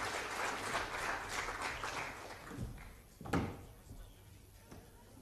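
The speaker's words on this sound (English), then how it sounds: "Give them a round of applause, please." An audience at a school presentation claps for about two and a half seconds, then the clapping fades and gives way to a few scattered knocks and thumps in a quieter room.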